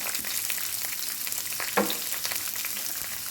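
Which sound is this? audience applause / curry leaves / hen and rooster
curry leaves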